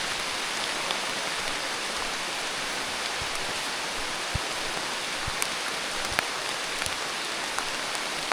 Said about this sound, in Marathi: मगाशी घरातून निघालो तेव्हा थोडा थोडा पाऊस होता, आत्ता परत पाऊस आला.